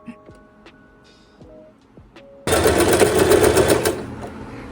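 A sewing machine stitches a frill onto a baby frock. After a couple of seconds of quiet handling and light clicks, the motor starts abruptly and runs loud and steady, close by.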